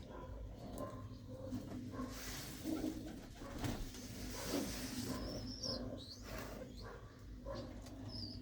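Pigeons at a rooftop loft, including a pair with a white hen and a black cock, give low repeated coos throughout, near and steady against a busy background hum; no one speaks.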